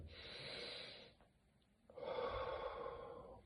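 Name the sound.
deep breath in through the nose, held, slow exhale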